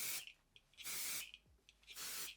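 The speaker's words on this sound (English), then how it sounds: "I just kind of pull and lift my hair up and spray it into the hair on both sides." Three long hissing bursts from an aerosol hair texture spray, each lasting about half a second, close to the microphone with brief pauses between.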